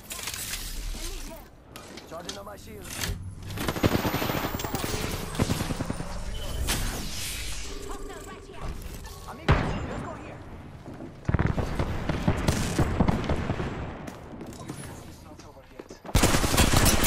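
Rapid bursts of automatic gunfire in a shooter video game, dense loud volleys with shattering impacts and sharp restarts over the whole stretch, with excited voices talking over the shooting.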